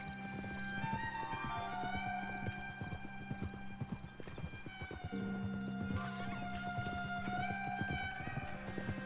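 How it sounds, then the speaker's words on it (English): Hooves clip-clop in an even rhythm as a horse moves in Red Dead Redemption, with a couple of whinnies and snorts, fairly close and clear over quiet game ambience. "Ah, vai, é um cavalinho bonito."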